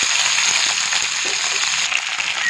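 Cauliflower florets and potatoes fry in a pan of oil, a steady, close, hissing sizzle that stays even throughout with no voices over it.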